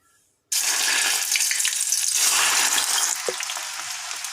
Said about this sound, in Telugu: బెండకాయలు ఇలా వేగుతున్నాయి